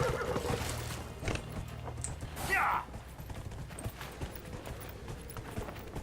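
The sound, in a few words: horse hooves clip-clopping in Dragon Age Inquisition video game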